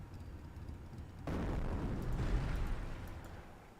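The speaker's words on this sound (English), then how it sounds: "Incendiary mortar completely whiffed" An incendiary mortar shell bursts in the World War II strategy game Company of Heroes, a sudden heavy boom followed by a rumbling, crackling fiery roar that lingers for a couple of seconds.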